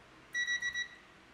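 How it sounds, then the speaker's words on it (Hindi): A multimeter in beep range gives continuity tones while testing a component on a mobile phone circuit board: a short burst of rapid, slightly stuttering electronic beeps, moderately quiet against steady background hiss. "आप बीप की साउंड सुन सकते हो।"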